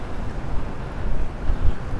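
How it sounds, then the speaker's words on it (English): Gusty wind on a New York City street buffets the microphone with a loud, low rumbling roar that swells and fades over a couple of seconds, with no voices. "Was this supposed to be so windy today?"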